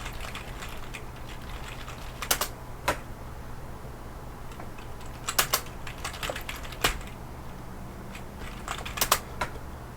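Computer keyboard typing during an online board game session, with scattered bursts of quick clicking keystrokes over a steady low hum, fairly soft and close, with no talking.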